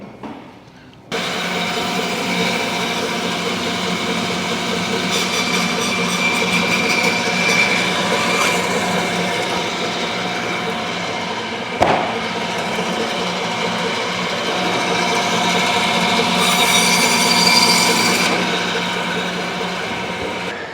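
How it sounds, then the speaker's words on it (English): Large butcher's band saw cutting through pork to separate the loin from the belly, a loud continuous motor whine and blade drone lasting about twenty seconds, with a brief knock partway through. "I'll get on the big saw. I'm gonna cut this right here, separate the pork loin from the pork belly."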